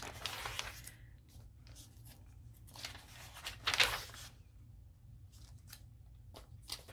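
Scissors snipping through thin magazine pages: a series of light, close, crisp cuts with faint paper rustles in between, in a quiet room.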